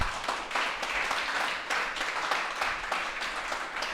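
Church congregation at a Sunday service applauding, a continuous dense rush of many hands clapping at moderate volume with a loose, uneven rhythm throughout.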